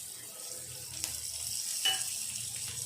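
Fenugreek leaves fry in oil for a bottle gourd curry, a quiet steady sizzle with a few soft stirring scrapes and no voices.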